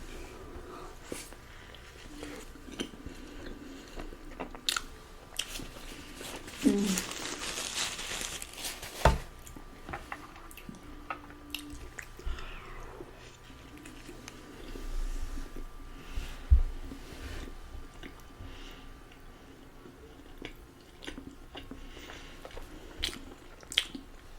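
Someone eating a McDonald's McChicken with extra mayo and fries close to the microphone, with soft bites, wet chewing and intermittent paper wrapper crinkling, a louder rustle partway through, quiet overall with no talk.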